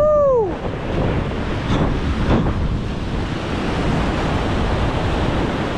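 Big ocean waves crash onto the shore of an uninhabited island in a continuous loud roar, with heavy wind noise on the microphone and a short swooping tone at the start.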